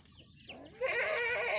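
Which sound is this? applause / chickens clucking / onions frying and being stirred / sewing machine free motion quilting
chickens clucking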